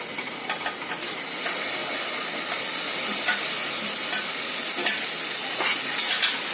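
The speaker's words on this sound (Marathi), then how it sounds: "आता आपण पनीर थोडं करून घेऊ तेलामध्ये" Cubes of paneer hit hot oil in a pan for a spinach paneer dish, erupting after a few stirring clatters into a loud, continuous sizzle and hiss that holds steady close up.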